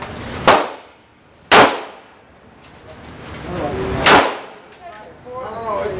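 Three sharp SIG Sauer 9mm pistol shots crack out at spaced, irregular intervals, each loud and close with a quick ringing decay, while faint background noise fills the gaps.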